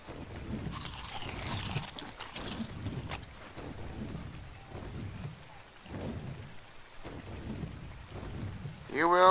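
Steady rain falls throughout with low rolling thunder rumbling in several waves, fairly loud and continuous, ending in a brief louder burst.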